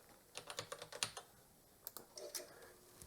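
Typing on an old, slightly grimy Atari Mega ST keyboard: a quick run of sharp clacking keystrokes, a short pause, then another burst of clicks, close and clear.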